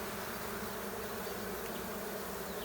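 A steady, dense drone of honey bees buzzing around an open hive being inspected, holding a constant level throughout with no voices.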